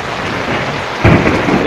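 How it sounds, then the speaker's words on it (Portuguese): Heavy rain pours steadily in Maceió, Brazil, a dense close hiss that swells when a loud rumble of thunder rolls in about a second in, with no one talking. "Desde ontem que chove aqui."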